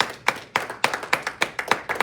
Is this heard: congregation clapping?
yes